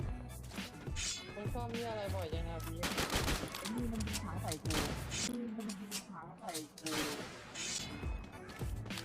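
Gunshots and machine-gun bursts ring out during a Free Fire battle royale match. The shots come quick and close, mixed with lively Thai voices talking over the action.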